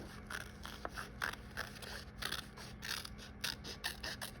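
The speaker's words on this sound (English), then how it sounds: "So I'm gonna cut from the bottom" Scissors cutting paper for a bear-shaped collage, heard as faint, close snips and blade clicks in an uneven rhythm over a quiet background hum.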